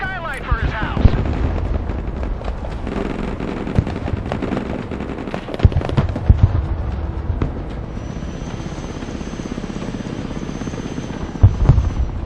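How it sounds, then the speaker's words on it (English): A CH-53 heavy lift helicopter in the military strategy game Broken Arrow roars steadily with rotor thump, layered over bursts of machine-gun fire and explosions in a busy battle mix. "CH-53 heavy lift helicopter thrusting forward."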